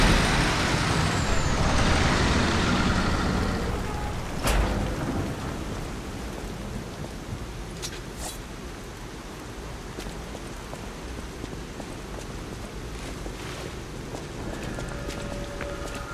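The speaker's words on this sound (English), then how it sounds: "Cursed Central Station Plaza, rainy night." Heavy rain on a rainy night at a cursed central station plaza in the game Lies of P, with a dense downpour at first easing to a steady hiss, broken by a few sharp distant cracks.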